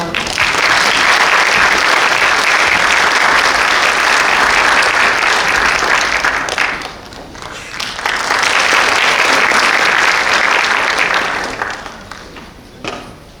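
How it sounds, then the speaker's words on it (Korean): A lecture audience gives a warm, sustained round of applause welcoming someone speaker, the first woman to head a Korean maritime safety agency; clapping swells twice, dips briefly between, and fades at the end. "큰 박수로 맞이해 주세요"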